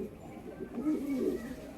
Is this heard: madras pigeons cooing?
yes